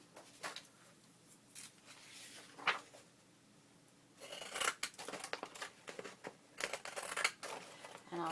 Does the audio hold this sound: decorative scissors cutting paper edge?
yes